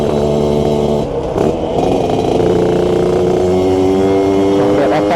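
A small motorcycle engine, a Suzuki Satria Hiu or Yamaha F1ZR, revs during a test, close and loud, its pitch climbing steadily with a brief dip near one second before rising again.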